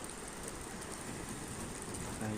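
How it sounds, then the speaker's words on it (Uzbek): Steady rain falls with wind outdoors in Sherobod, Surxondaryo, Uzbekistan, near a pagoda, a continuous broadband hiss filling the air at even loudness with no talking. "Ham yomg'ir yog'yapti, ham shamol."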